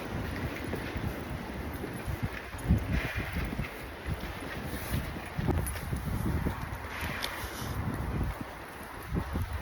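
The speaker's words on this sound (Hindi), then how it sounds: "ठंडी ठंडी हवा चल रही है।" A cold wind blows steadily outdoors, buffeting the microphone with low, gusty rumbles and hiss throughout, fairly faint overall.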